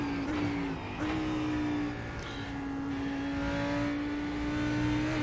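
A Ferrari GT race car engine in a racing sim at Spa drones at steady high revs down a straight, with a sustained tonal whine, a slight rise in pitch, and other cars audible close by.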